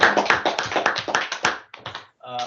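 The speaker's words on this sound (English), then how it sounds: "Clap." A small audience claps after a talk on a groundwater rehabilitation project in Chad, a brief burst of close, sharp hand claps that thins out, followed by a short sound at the end.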